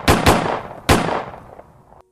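Gunfire in a dramatized story about security forces shooting a man: three sharp, loud shots, two in quick succession then one more, each trailing off in a ringing decay, with no voices.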